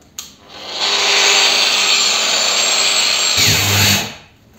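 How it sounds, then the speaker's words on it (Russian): A 125 mm PROCRAFT PW 1100 ES angle grinder under load whines loudly and steadily for a few seconds, then its pitch drops with a rough low rumble as its overload protection shuts it off and it winds down and stops. "Пошла нагрузка, и чтоб не спалить движок, болгарка сама себя выключает."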